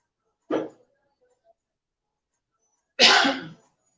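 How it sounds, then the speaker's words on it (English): A person at a stovetop coughs twice from pepper fumes while cooking. The first cough is short and the second is louder and harsher, with quiet between them. "I'm coughing a little bit because like I said, sometimes cooking on this stove top, the pepper, it sends it around the house and it makes you cough"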